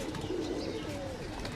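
A pigeon gives a short, low cooing call nearby, soft and rolling, with faint background noise.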